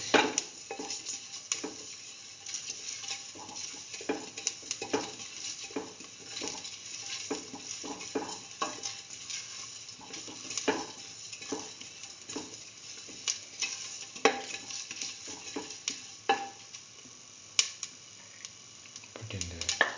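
Red chili pieces and salt are stirred in a frying pan over a soft sizzle, with repeated scraping and clicking of a utensil against the pan at close range and no voices.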